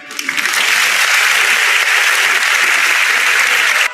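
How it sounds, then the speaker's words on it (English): Sustained applause from an audience at a youth dialogue event in Nigeria, a dense even wash of many hands clapping that swells in quickly and holds steady and loud throughout. "Please, a round of applause for him, please."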